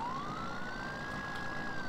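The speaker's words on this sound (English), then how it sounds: "turn on that siren" A police siren on a Ford F450 in Farming Simulator wails, sweeping slowly upward and holding over a steady engine rumble, loud and continuous, with no talking.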